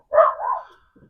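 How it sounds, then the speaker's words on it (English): A dog gives a single short, moderately loud bark outdoors near a parked used car, followed by brief quiet. "Never mind the dog barking, that's just kind of what we have to deal with every day."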